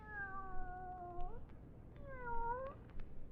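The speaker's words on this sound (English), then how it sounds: "Here, kitty, kitty, kitty, kitty, kitty." A cat in an old-time radio drama gives two long, wavering meows, one after the other, fairly faint over a hissy background with no talking.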